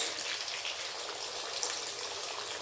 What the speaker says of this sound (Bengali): তেল গরম হয়ে গেছে, আমি প্রথমে আলুগুলো ভেজে নেব